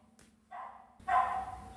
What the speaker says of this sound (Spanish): ¡Cállate, perro!